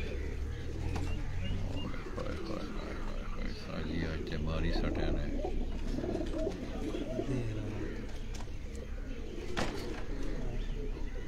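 Pigeons coo softly in low, rolling calls beneath steady background noise, on a rooftop loft in Chak Shahzad, with occasional fluttering and shuffling sounds nearby.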